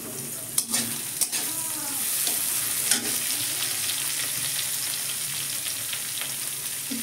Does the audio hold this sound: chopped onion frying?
yes